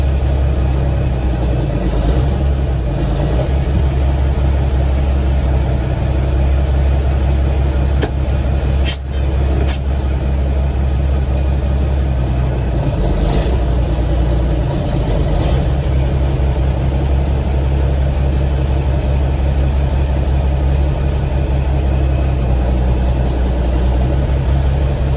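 A semi truck's engine rumbles steadily while the truck is moved, a loud, continuous low drone close by. A few brief sharp hisses, like air releases, cut in partway through, with no voices.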